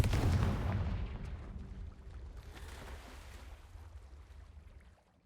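A Confringo spell blast in Hogwarts Legacy lands as a deep, loud boom that rumbles and fades away over several seconds.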